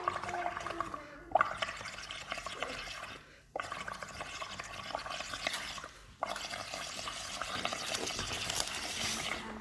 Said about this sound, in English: You need the kids to blow it all the way up to the top.